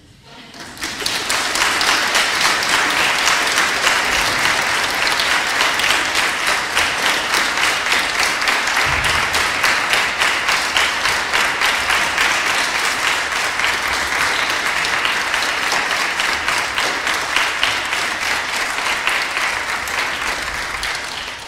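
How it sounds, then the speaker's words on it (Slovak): Sustained, loud applause from an audience for performers at a Christmas gathering, dense steady clapping lasting about twenty seconds with no pauses. "teraz taký maličký potlesk pre účinkujúcich."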